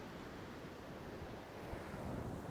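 Wind blowing on a shore while tope fishing, a steady broadband rush with surf-like wash, constant and fairly close to the microphone, no voices.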